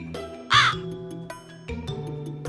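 A cartoon crow gives a single loud, raspy caw over a busy background music track, close and prominent for under a second before the music carries on alone.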